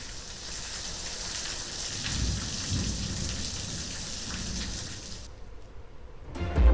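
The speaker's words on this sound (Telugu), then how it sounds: "ఉరుములు మెరుపులతో భారీ వర్షం కురిసింది" Heavy rain pours down in a dense, steady roar while deep thunder rumbles underneath, then the downpour cuts away abruptly.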